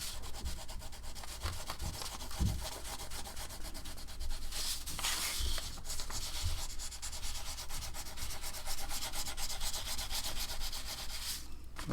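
White crayon pressed hard on paper in circular strokes, a steady close scratchy rubbing that runs without pause and with no talk.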